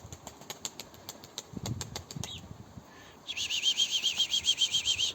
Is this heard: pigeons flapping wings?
yes